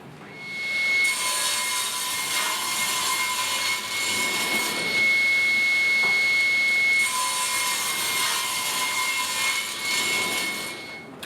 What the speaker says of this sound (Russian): Пилю отрезки и собираю доски.